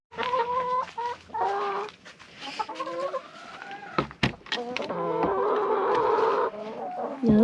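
Chickens cluck and squawk in a coop, close and loud, with a run of varied calls, scattered sharp clatters and a busy stretch of overlapping clucking toward the end.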